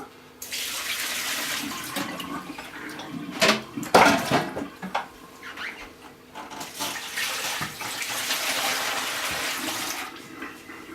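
Water from a homebrew beer bucket is poured out in a long gushing rush of splashing and draining, with a few louder splashes near the middle before the flow settles into a steady pour.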